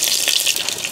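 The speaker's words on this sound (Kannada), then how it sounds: "ಸಾಸಿವೆ, ಮೆಣಸು, ಉದ್ದಿನ ಬೇಳೆ ಎಲ್ಲ ಒಟ್ಟಿಗೆ ಹಾಕಿಕೊಳ್ಳುವ. ಸಾಸಿವೆ ಸಿಡಿದಾಗ ಬೇಯಿಸಿ" Mustard seeds, chili and urad dal go into hot oil, giving a loud, close, dense sputtering crackle that carries on steadily through the whole second, alone with no voices.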